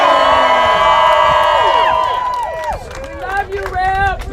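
A large outdoor protest crowd screams, whoops and cheers loudly and continuously, with rising and falling shrill voices and some clapping blending into the roar.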